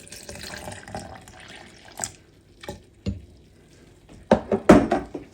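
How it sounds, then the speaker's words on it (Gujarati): Water poured from a glass into a protein shake of milk, a few short splashing gushes that grow louder toward the end, with clinks and quiet gaps between. "અહીં મેં 1 ગ્લાસ દૂધ એડ કર્યું છે અને હું 1 ગ્લાસ પાણી એડ કરીશ"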